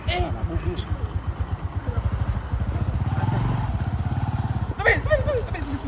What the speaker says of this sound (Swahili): Pikipiki kitembea jikaze